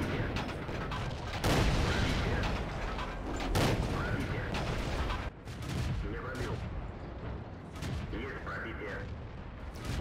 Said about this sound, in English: We're gonna switch back as I'm shooting at this T1 just to hear the differences.